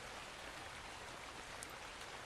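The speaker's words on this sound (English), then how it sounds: "And lovely, it's raining." Soft, steady rain in the video game Ark, a faint even patter and hiss with no distinct drops standing out, continuous and without voices.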